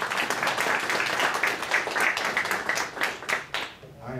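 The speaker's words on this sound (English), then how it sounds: "give yourself another round of applause," Attendees at an awards ceremony give a round of applause, a moderate patter of clapping from a modest crowd that swells and fades unevenly before tapering off near the end.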